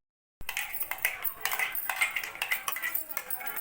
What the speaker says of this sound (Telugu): ఈ క్యారెట్ పేస్ట్ కూడా కలుపుతున్నారు